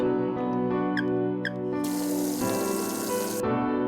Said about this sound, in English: The faucet squeaked loudly.